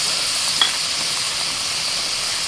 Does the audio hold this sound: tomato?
yes